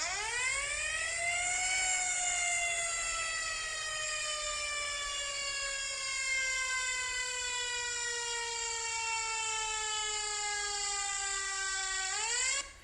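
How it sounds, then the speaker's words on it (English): A loud 1930s pneumatic siren rises, then wails steadily and slowly winds down in pitch over several seconds before cutting off at the end. "I found a pneumatic siren from the 30s."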